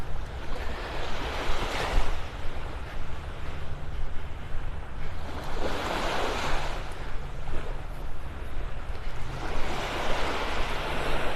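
Ocean waves break and wash along a beach at Naples, a steady loud surge that swells in roughly four-second cycles, with hissing foam and some wind rumble and no voices.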